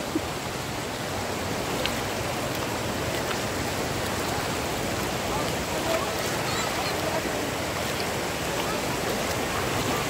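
Cold river stream flowing steadily in a Philippine creek, a constant broadband rush of water, close and even throughout with no pauses.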